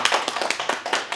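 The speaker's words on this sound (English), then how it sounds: "I'd like to ask the audience to give a round of applause to the speaker" A seminar audience applauds a speaker, a brief burst of scattered handclaps in a small room, fairly close and irregular.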